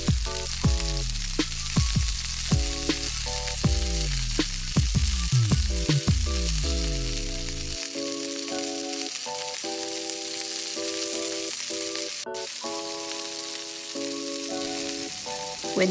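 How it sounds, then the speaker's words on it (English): Battered pumpkin deep frying in hot oil in a Japanese restaurant kitchen, giving a steady close sizzle and bubbling with sharp crackles and pops, heard alone against a background music track. "When deep frying, the thick one, bubbles appear only around the pumpkins."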